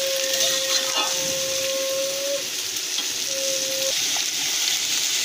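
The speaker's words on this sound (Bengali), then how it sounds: "আমরা আলুগুলোকে ভেজে নেব একটু।" Potatoes fry in oil in a kadai with a steady, close, broadband sizzle, and a thin whistling tone rises over it twice.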